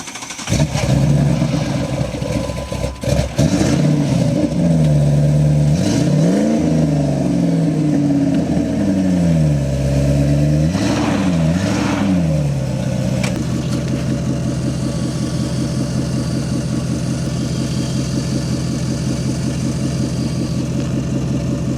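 A Jeep engine runs loud and close, revving repeatedly in rising and falling sweeps, then settles into a steady, even idle.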